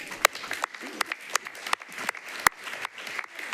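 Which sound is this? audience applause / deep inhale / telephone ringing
audience applause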